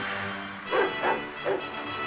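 Alaskan sled dogs bark and yip in a few quick bursts, heard over a steady wash of old film soundtrack noise and music during a snowstorm.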